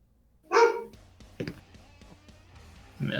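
A dog barks in short bursts, once loudly and nearby and then again more briefly, during a tabletop role-playing game session, with quiet background noise between the barks.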